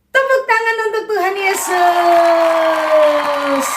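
A group of children at a kids' worship service cheer and shout loudly together in a sustained, excited burst that fills the room and gradually tapers off.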